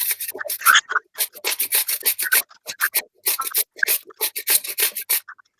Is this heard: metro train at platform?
no